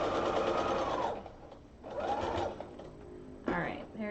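A sewing machine runs in short bursts while stitching a rolled hem, whirring for about a second, pausing, then running again before a brief final spurt; nearby and fairly soft.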